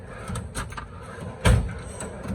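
Drawers being pulled open and pushed shut while someone searches a garage workspace, a few faint scattered knocks and slides followed by one louder thud midway.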